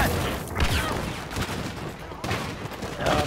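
Blaster fire from an AT-AT walker in Star Wars Battlefront during a Walker Assault on Outpost Beta: loud, dense volleys of blasts packed into a constant roar of battle noise.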